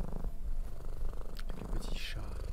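A small cat purrs steadily and close up, a continuous low rumble through the whole stretch, with a few brief rustles and a faint voice over it.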